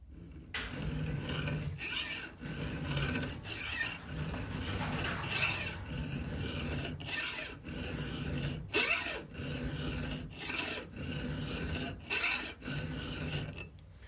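Metal being filed by hand with a Vallorbe square file: repeated rasping strokes in a steady rhythm, each push a gritty scrape separated by short pauses, close and moderately loud, no talking.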